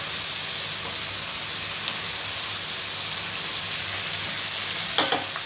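Chicken bone macaroni soup stirred in a pot, a steady sizzling, bubbling wash with a few clinks of the spoon against the pot near the end.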